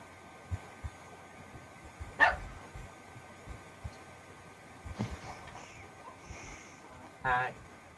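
A dog gives a few short, fairly distant barks scattered over several quiet seconds, with soft room noise between them.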